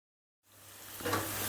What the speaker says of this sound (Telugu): ఉల్లిపాయలు కొంచెం గోల్డెన్ కలర్ వచ్చిన వరకు వేయించుకుందామండి